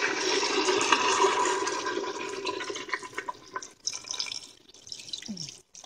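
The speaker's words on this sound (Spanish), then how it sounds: "Ahora simplemente es añadir agua" Water poured from a tap into a pot of pumpkin, carrots and vegetable stock, a steady splashing stream that thins into broken drips and trickles near the end.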